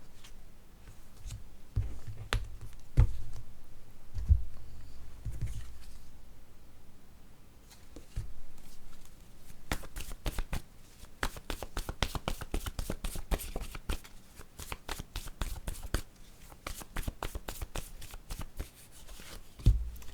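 Tarot cards are shuffled by hand for a card reading, riffling and tapping in quick, close, steady bursts. A few sparse knocks come first, then a longer run of rapid shuffling with no talk.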